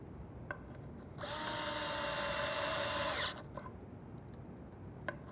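A power drill drives a screw into a wooden face frame for a cabinet in a single loud, high whirring burst of about two seconds, with a few light taps around it.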